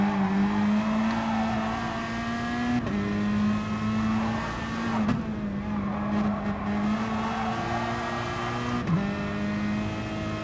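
Race cars in a racing game roar down the straight on the final lap of a multiclass GrB versus Gr4 event, with one car chasing another. A loud, steady engine drone holds throughout, dipping briefly at a couple of gear shifts.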